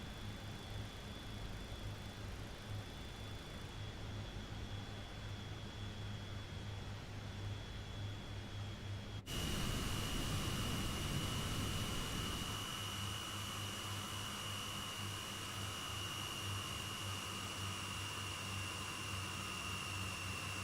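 Boeing 737-500 jet engines in Microsoft Flight Simulator 2024 give a steady, even roar with a high whine; partway through, the tone abruptly shifts brighter and louder, then holds constant. No talking.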